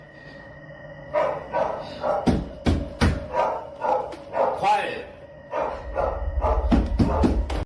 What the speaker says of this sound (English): Bro doesn't know how to silence dogs